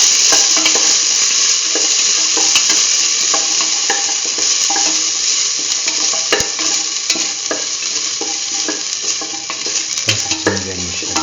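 Ginger and salt stir-fried in a pan, a steady loud sizzle running throughout with scraping stir strokes, made while cooking pumpkin beef rice.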